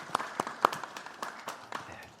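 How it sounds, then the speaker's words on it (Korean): A church congregation gives a short round of thankful applause at a Sunday worship service, with sparse, scattered claps of uneven rhythm, fairly soft and slightly distant. "우리 감사의 박수로 한번 감사를 표하겠습니다."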